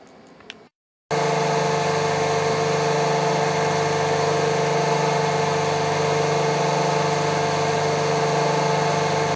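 A Spin CR-4 common rail injector test bench starts up after a brief silence and runs with a loud, steady mechanical hum and whine, holding constant close by with no talking.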